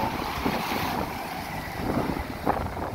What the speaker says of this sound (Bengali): প্রচন্ড বাতাস, প্রচন্ড বাতাস।